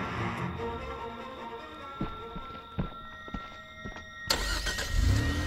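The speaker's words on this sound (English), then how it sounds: "You guys can't even start the fucking car." In the Friday the 13th video game, a car engine cranks and fails to catch, with scattered clunks and thumps, then a louder rough engine burst near the end; moderately close, without speech.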